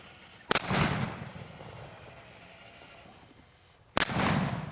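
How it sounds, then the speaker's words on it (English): A jeep-mounted cannon fires two loud, sharp blasts about three and a half seconds apart, each followed by a booming, rumbling tail that fades under outdoor background noise. "this is a demo of how loud this cannon can really go"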